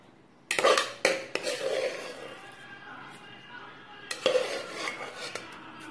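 An insulated hot box holding rice and lentil dish is handled and shut, with several sharp clattering knocks of lid and container up close, then softer scraping, while someone speaks.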